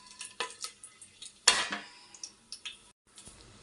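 Whole spices hit hot ghee and oil for biryani with a sudden burst of crackling sizzle, surrounded by light clinks and taps of a utensil on the pan, fairly quiet and close.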